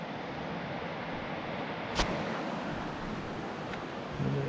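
The Middle Fork Snoqualmie River rushes beneath a hiking-trail bridge in a steady, broad wash of flowing water, with a couple of brief knocks or clicks and no talking.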